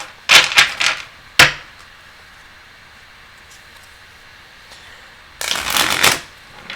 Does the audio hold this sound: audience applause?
no